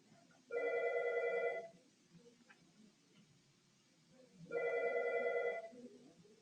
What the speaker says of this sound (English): I was getting a phone call.